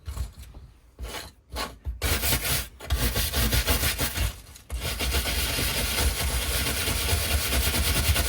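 Sanding wood on a Snowpeak PP750, a steady rough rubbing rasp that starts in short strokes, then runs continuously and fairly loud up close with a low machine-like hum underneath.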